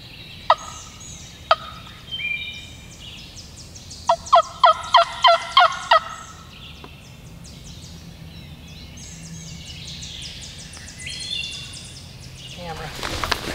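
Wild turkeys gobble during a turkey hunt on a wooded point, with several loud, fast gobble bursts close by. Hen-like calls and rustling sit under a steady background of outdoor ambience.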